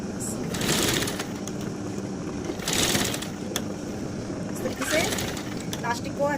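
A sewing machine stitches elastic onto fabric in short whirring runs separated by pauses, with someone talking over and between the bursts.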